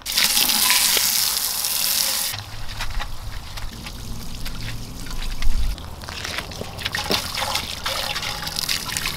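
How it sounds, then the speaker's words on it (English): Water sprays and splashes while washing the wheels of a Lexus IS300 outdoors, a loud steady hiss at first, then uneven trickling and spattering runoff. "I'm just gonna wash his wheels so we can expedite this process."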